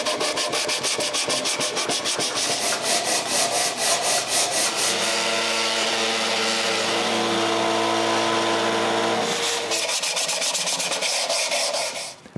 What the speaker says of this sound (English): And I can give the final sanding.